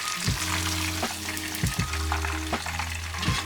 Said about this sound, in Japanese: それを180度の油で、揚げていきます